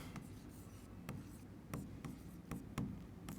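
Chalk or marker scratches across a board during a Class 10 physics lecture on electricity, in a series of quick, close strokes over a soft room hiss, with no talking.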